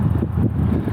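A 2018 Ford Mustang EcoBoost engine runs loudly up close, a steady low rumble with wind buffeting the microphone and no talk.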